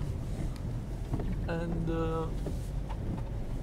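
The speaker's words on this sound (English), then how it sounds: "So now I'm driving on a snowy road" Inside a Ford Focus 2 with a 1.6 TDCi diesel, moving along a snowy, muddy road: a constant low droning rumble of engine and tyres runs throughout, and a voice talks over it partway through.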